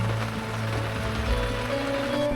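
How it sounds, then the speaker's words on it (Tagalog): Rain pattering steadily on a tent during a mountain camping night in the Sierra Madre, a dense continuous patter with a low steady hum beneath it, no voices. "Sarap naman pakinggan ng patak ng ulan."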